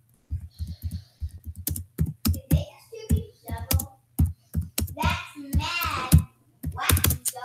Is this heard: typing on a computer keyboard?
yes